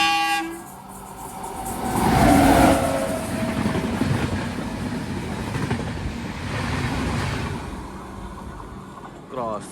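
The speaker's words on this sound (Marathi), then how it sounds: "इकडे आता आपण क्रॉस झालो तर ही ट्रेन असा इली ट्रेन इली इंदोर एक्सप्रेस सुस्ताट" Indore Express train rushing past on the Konkan railway, a loud, close roar of wheels and carriages with a horn blast near the start, the rumble holding steady before easing slightly at the end.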